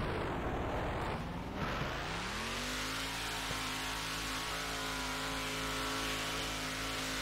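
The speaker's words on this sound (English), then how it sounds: "Vehicles, I'll put you into the fastest one, which is a monster truck." Monster truck in the video game Turbo Dismount, engine revving and rising in pitch before settling into a steady, loud drone with crash noise at the start, continuous and close without any talk.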